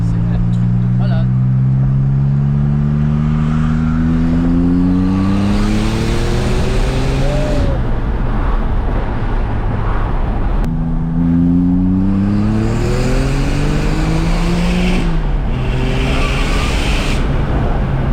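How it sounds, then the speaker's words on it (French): A Porsche 911 Turbo accelerates hard through the gears from close inside the cabin, its engine note rising steeply, dropping at each shift and climbing again, loud and continuous, with a voice speaking over the roar. "Ça accélère plus fort qu'un Boeing, hein."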